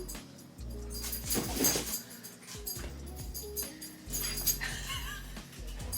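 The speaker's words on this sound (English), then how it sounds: "we might start hearing some dog play" Two dogs play together with whimpers, high yips and bursts of panting and scuffling. The sounds are fairly close and come in uneven, lively bursts throughout.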